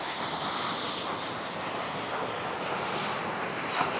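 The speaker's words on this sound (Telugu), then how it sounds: "అంత పెద్ద ఫ్లో వస్తుంది వాటర్ ఫాల్స్ లాగా తయారైపోయింది" A steady, dense rush of water pours on without a break, loud and close, like a fast forest stream tumbling over rocks.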